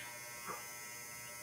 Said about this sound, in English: There's my dryer.